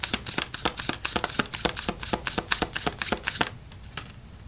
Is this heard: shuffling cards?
yes